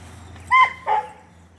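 A happy pet dog gives two short, close yips in quick succession, clear against a quiet background.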